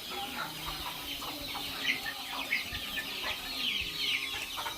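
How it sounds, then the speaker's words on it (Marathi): Free-range village hen clucking amid many chirping chicks in a sweet-lime orchard, rapid high peeps scattered over soft repeated clucks, close and steady with outdoor background. "बघा एक कोंबडी आणि एवढी पिल्लं सोडलेली आहे"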